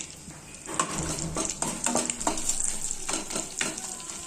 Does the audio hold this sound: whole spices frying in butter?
yes